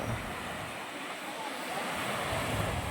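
Sea waves wash onto a white sand beach on Malcapuya Island in Coron, Palawan, a steady, close hiss of surf blended with wind rumble against the microphone.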